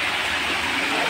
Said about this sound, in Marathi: धबधब्यासारखं पण झरा आहे